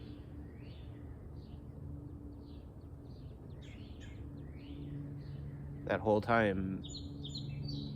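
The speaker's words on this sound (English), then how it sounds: "birds are singing" Birds chirp and sing outdoors in short, light calls scattered throughout, with a brief louder burst of calling near the end, faint under steady background noise while someone speaks.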